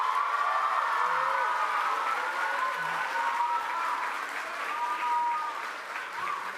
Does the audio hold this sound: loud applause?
yes